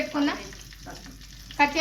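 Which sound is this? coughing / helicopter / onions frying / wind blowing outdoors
onions frying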